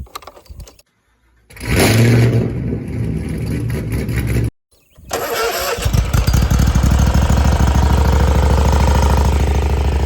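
A used Hustler Raptor XD 54-inch commercial mower's Kawasaki FR691V engine cranks briefly, stalls, then catches and roars into a loud, steady run with a rapid throbbing beat, close by.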